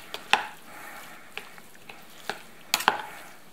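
Pollock, tomatoes, cucumbers and garlic being tossed together, with a handful of soft scrapes and sharp clinks of a utensil against the bowl at an uneven pace, close and fairly quiet.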